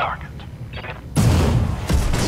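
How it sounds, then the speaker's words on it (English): A mech's ammunition explodes in the Battletech video game: after a quieter stretch, a sudden loud blast hits midway, followed by a second burst near the end, with game sounds underneath. "Ammo explosion."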